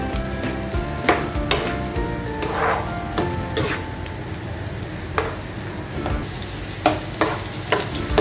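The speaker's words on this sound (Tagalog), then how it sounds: "Hanggang sa mag-brown po yung bawang na ating inilagay or garlic" Garlic and peanuts fry in oil until brown, a continuous sizzle broken by sharp, irregular scrapes and knocks as a utensil stirs the pan.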